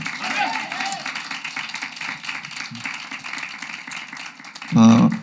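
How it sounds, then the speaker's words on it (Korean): A church congregation claps in applause during a Sunday morning worship service, a steady patter of hands filling the room with a voice murmuring through it and a louder burst near the end. "먼저 우리 하나님께 박수로 영광 돌리겠습니다."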